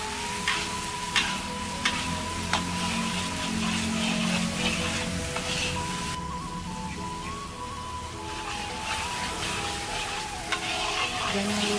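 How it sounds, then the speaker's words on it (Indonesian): Beef rendang stirred in a pan over a wood-fired stove on high heat, a continuous dense sizzle with repeated scraping strokes of the spoon, close and steady with no talking. "Jangan lupa diaduk-aduk terus, biar nanti dia tidak gosong."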